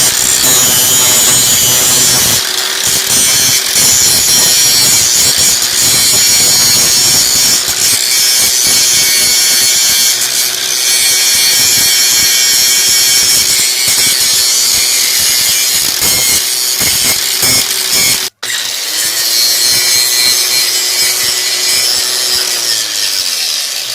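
A power sander smooths a metal part of an old western plow under rebuild, giving a loud, continuous whirring grind close by, broken by one brief cut-off before it runs on.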